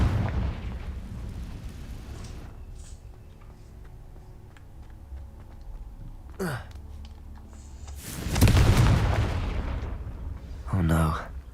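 The Confringo spell in Hogwarts Legacy sets off a few separate fiery blasts over a quiet, low game ambience. The biggest burst sits near the end and a voice is briefly heard close to the finish.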